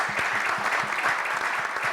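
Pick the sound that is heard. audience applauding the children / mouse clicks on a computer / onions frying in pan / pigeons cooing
audience applauding the children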